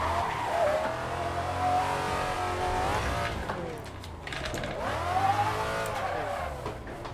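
A Rocket Bunny widebody Nissan 350Z V8 drift car, simulated, shreds its tires: loud, sustained engine roar and revving with rising and falling pitch sweeps as the tires squeal through a slide, heard alone and close.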